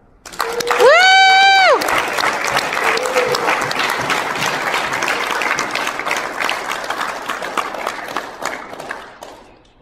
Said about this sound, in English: maybe we just give a warm round of applause to the parents of the Eagle Scouts, the Eagle Scouts themselves, and their wonderful mentor